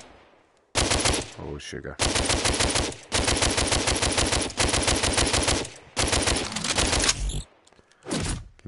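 Sustained automatic assault rifle fire in the VR shooter DWVR, loud and close, in long rapid bursts broken by brief pauses, with a short spoken exclamation in between.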